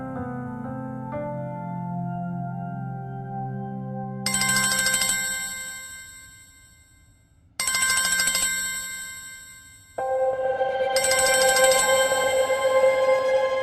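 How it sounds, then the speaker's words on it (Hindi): An electronic phone ringtone plays a bright repeating melody in loud bursts separated by brief pauses, with no talking. "ये लवली क्यों फोन कर रही है मुझे?"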